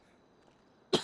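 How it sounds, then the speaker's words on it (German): A single sharp cough, close and sudden, at the very end of a short, nearly silent stretch. "Ich fange wieder an zu husten wie so ein Affe"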